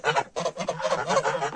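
Two ducks and a brown drake call in a dense run of loud, overlapping honking quacks close by, with barely a pause, on a snowy day.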